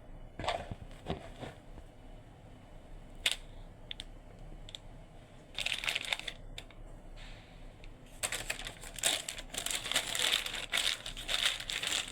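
Baking paper crinkles and rustles while being pressed into a metal burger mold, with irregular crackling bursts growing denser and louder toward the end, no voices.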